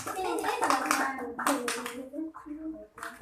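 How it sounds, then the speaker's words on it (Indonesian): Second-grade children clapping their hands in a classroom during a Pancasila lesson, a brief patter of small hands mixed under loud, continuous talking and children's voices. "beri tepuk tangan untuk Farhan"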